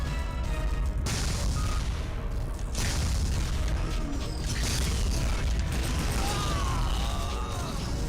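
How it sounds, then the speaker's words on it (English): A rocket launcher fires and its rockets explode in the PS2 dinosaur shooter Dino Stalker: heavy booms and rumbling blasts over a constant dense game soundscape of mechanical noise, loud throughout. "it's so hard to hit with the rocket launcher"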